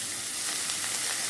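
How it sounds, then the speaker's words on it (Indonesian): Chopped onions sautéing in a new pot for mutton curry with potatoes, a steady, even frying sizzle close up and heard alone, with no voices over it. "Kita tumis dulu bawang bombay yang tadi sudah kita cincang."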